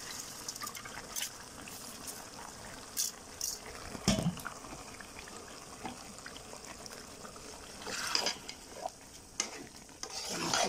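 Rice sautés with meat in a pot for biryani, a moderate sizzle under repeated spatula stirs and scrapes, with occasional louder clanks and wet stirring toward the end.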